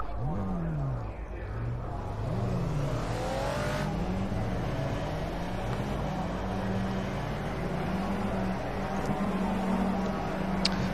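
A Ford Escort Mk1 RS1600 in the Project CARS racing game at Oulton Park, its engine revving up through gears in repeated rising sweeps, a steady loud drone held close throughout.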